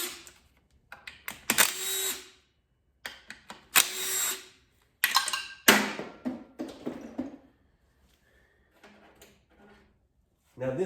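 A pneumatic impact wrench zips out the three oil pan baffle screws on an Audi/VW 2.0T engine during a teardown, giving several short loud bursts separated by pauses and quiet handling clatter.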